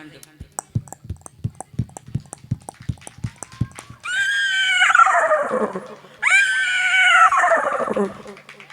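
A performer vocally mimics a horse cart: about four seconds of steady clip-clop hoof clicks, then two loud, shrill horse neighs that fall away at the end, all close and solo.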